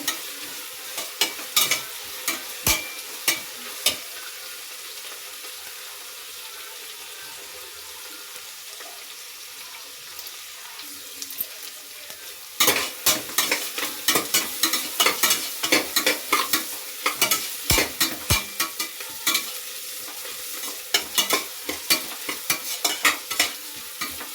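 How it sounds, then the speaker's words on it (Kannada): Onions frying in a pan for soya green biryani, cooked until browned: a steady close sizzle broken by sharp clatters of a spoon stirring and scraping, growing busier and louder in the second half, with no talking. "ಇದನ್ನ ಸ್ವಲ್ಪ ಬ್ರೌನ್ ಕಲರ್ ಆಗೋವರೆಗೂ ಹುರಿಬೇಕು."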